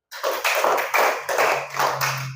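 Five distinct bursts of group hand clapping come from teachers at a district working-group meeting in Bulok, fairly evenly spaced and close, each loud and crisp, with a faint low hum underneath.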